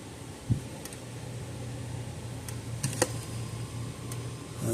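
A Parmak Solar Pak 6 electric fence charger under repair on the bench ticks with a few sharp, isolated clicks at irregular intervals over a low, steady electrical hum, close and fairly quiet.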